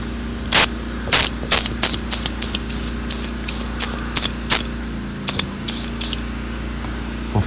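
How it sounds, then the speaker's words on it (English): Several short bursts of rust penetrant sprayed from an aerosol can onto a seized sway bar link on a 2006-2011 Honda Civic, each hiss sharp and close, separated by brief pauses over a steady low hum. "we're gonna use some rust penetrant on this guy"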